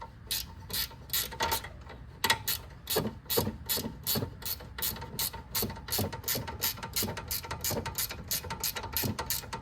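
Ratchet running down a car front strut nut, a steady close series of quick metallic clicks in rapid bursts, fairly quiet and without talk.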